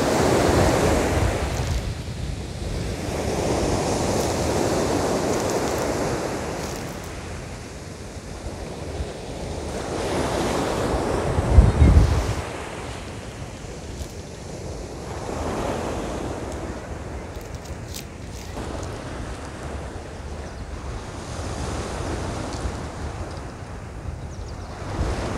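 Sea waves and wind at the seaside, a steady washing surf with broad swells rising and falling, wind buffeting the microphone and one louder gust near the middle, no talking.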